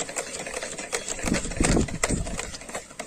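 Mayonnaise ingredients being beaten with an electric mixer, a rattling mechanical buzz with uneven pulses as the beaters hit the bowl, close and fairly quiet.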